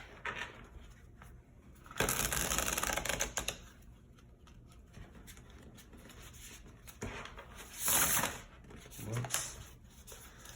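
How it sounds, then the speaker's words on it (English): Tarot cards shuffled by hand close up, with a dense papery riffle in short bursts of a second or two, then a bright ruffle later. A voice briefly speaks. "I feel like shuffling once."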